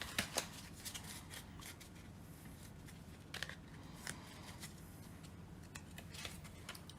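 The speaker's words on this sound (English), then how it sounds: "where we wait for the shuffling of what a grand total of 20 cards left" A small deck of about 20 vintage Rack-O playing cards is shuffled, giving quiet, intermittent riffling bursts and soft card snaps over low room noise.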